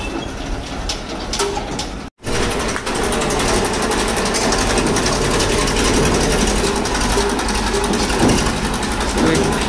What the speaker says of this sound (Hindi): ट्रैक्टर आ गया है, अभी फर्नीचर ट्रैक्टर में लोड करेंगे